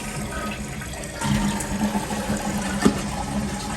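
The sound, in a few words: toilet flushing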